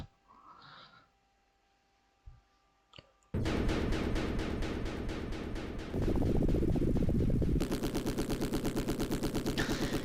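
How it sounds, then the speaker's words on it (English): A chopping, rapidly pulsing helicopter effect from the video game Streets of Rage 3 starts abruptly after a few quiet seconds and runs loud and continuous to the end, changing texture partway through. "that's the sound of Adam's helicopter"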